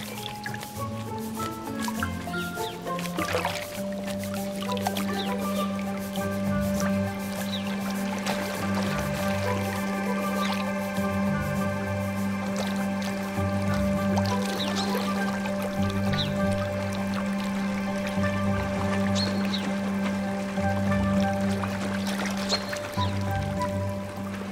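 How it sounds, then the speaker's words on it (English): Sparrows bathe and splash in water, producing steady wet flicking, dripping and squishing sounds with small irregular bursts, fairly close and continuous over a low tonal background hum, with no voices present. "they can clean their feathers while splashing about too"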